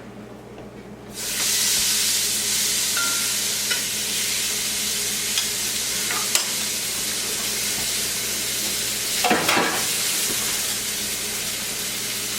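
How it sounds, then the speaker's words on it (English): A rack of lamb hits a hot pan and bursts into loud, steady sizzling that holds for several seconds, with a few brief clicks and scrapes of tongs and a short flare of hissing near the end. "Now I want to sear it on all sides, get it a little bit brown, maybe a little crispy."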